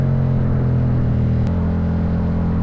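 A 2022 Yamaha MT-07 motorcycle with its CP2 crossplane twin and full Akrapovic exhaust idles close by, a steady low throbbing rumble with a brief sharp tick partway through.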